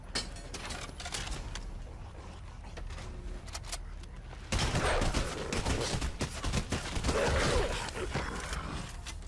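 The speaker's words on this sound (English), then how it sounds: "It's the turret gun!" A turret gun in Fortnite Battle Royale Season 7 fires dense, rapid bursts in a continuous mechanical clatter that grows louder partway through and holds steady to the end.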